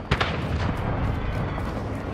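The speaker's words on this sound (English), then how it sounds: "Friendly mortar strike inbound" Friendly mortar strike explosions in a co-op military shooter, a couple of close, heavy booms up front followed by a sustained rumbling roar of blast debris.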